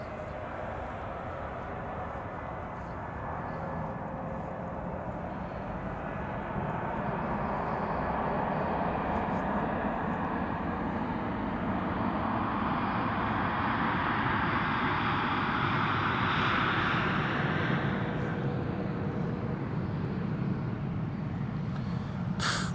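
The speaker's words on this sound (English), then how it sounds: "This is KM Malta, returning from Malta, A320neo, 5-year-old airplane, first flight July 2019." A KM Malta Airbus A320neo, about five years old, flies over on approach at a wintry Amsterdam Schiphol airport. Its broadband jet roar is steady and continuous and grows slightly louder toward the middle as it nears, with no talk.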